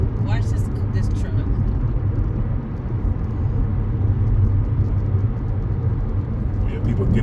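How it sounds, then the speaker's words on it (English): A truck rolls along a road in Georgia during an evening drive, its steady low engine rumble and tyre noise filling the cabin continuously; people talk throughout. "Watch this truck."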